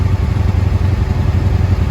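A 1995 Honda Shadow VLX motorcycle engine idles close by with a loud, steady, throbbing rumble and a bit of mechanical clatter.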